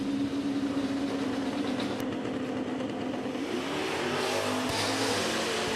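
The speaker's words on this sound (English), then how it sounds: "Look for the nitrous car to jump out front and try to hold off the top end turbocharge of Michael Laney" Nitrous-fed drag racing car launching and accelerating hard down the strip, a steady loud engine roar with a low rumbling tone that holds throughout, heard from trackside with no voices.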